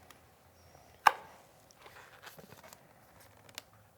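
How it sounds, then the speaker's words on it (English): Scissors give one sharp, close snip through the tied-off ends of a latex balloon in a candy-themed balloon stack, followed by quieter rustling and handling noises. "And then we'll just snip off these ends."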